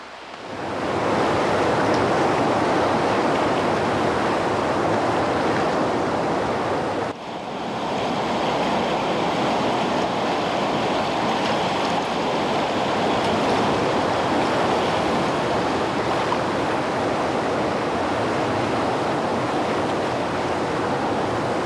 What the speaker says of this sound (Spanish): La sierra es el último rápido importante que debemos cruzar en la bajada hasta la ciudad de Río